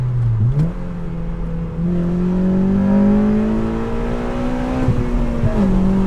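8th-generation Honda Civic Si with a 3-inch full race catback exhaust, engine humming loudly and steadily as revs climb gradually through a long pull, then easing with a brief dip near the end, heard from inside the car.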